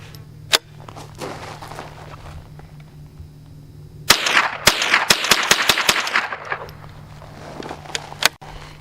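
A new Henry AR-7 .22 survival rifle fires sharp, close cracks: a lone shot, a pause with faint handling noise, then a rapid string of about eight shots and a final one.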